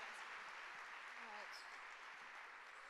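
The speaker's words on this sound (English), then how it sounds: "Can we get another big round of applause for Deepam?" Applause from a student audience at a Harvard Foundation live-streamed event, a steady broad wash of clapping throughout with some voices mixed in.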